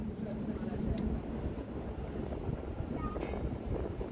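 Wind buffets and rumbles against the microphone in a continuous low roar, with faint background sounds mixed in.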